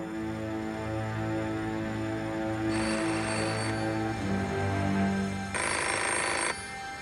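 An old telephone bell rings in a dramatized documentary scene in an apartment, two long bursts of loud ringing separated by a pause over a quiet background.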